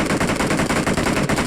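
Rapid automatic gunfire in the BGMI battle royale mobile game, dense bursts of shots rattling continuously and loudly with no talk over them.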